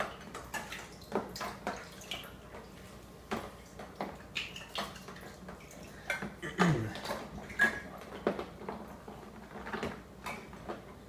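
Homebrewing gear, including a hose, an airlock and a thermometer, is set into sanitizer, giving faint, scattered clinks and taps with light watery sloshing in a quiet room.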